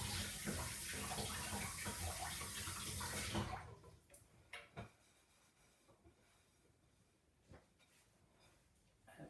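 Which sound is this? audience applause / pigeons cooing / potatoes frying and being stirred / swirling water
swirling water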